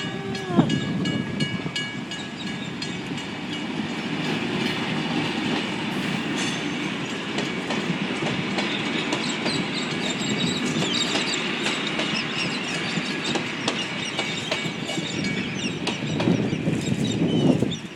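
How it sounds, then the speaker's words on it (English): The Cockle Train, a tourist railway train, rumbles steadily past close by with rhythmic clickety-clack of wheels over rail joints and a faint metallic squeal, loud and continuous throughout. "There's a train coming!"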